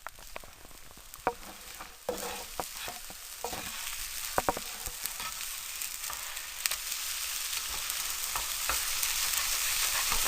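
Eggs frying in a pan for a chili cheese omelette, a crackling sizzle that builds louder over time, punctuated by sharp spatula scrapes and taps in the first half.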